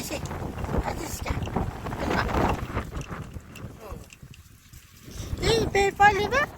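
A strong gust of violent wind roars and buffets loudly, easing briefly in the middle before rising again, while a voice calls out near the end.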